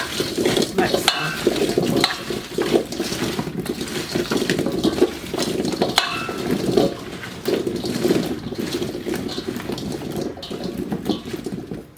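Raw potatoes liberally salted being stirred in a bowl for dry canning, a continuous scraping, rustling clatter of pieces tumbling against each other, close and fairly loud, with occasional sharper knocks.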